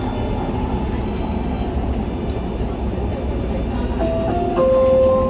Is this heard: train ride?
yes